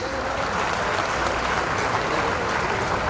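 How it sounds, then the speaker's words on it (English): Audience applause for government ministers at the opening of a science experience centre in Hyderabad, a dense, sustained roar of clapping from a large crowd at constant volume. "A big round of applause, please."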